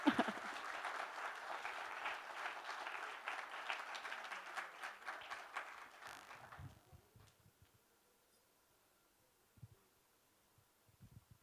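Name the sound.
audience applause welcoming a singer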